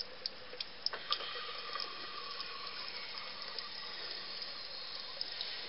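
Water running from a faucet after the well pump is switched back on following weeks of disuse, a steady faint hiss of flow with a few small clicks and taps.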